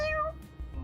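A loud, tonal cat meow from a cat character in Mewgenics, a single rising and falling call that is close and clear, then fades out.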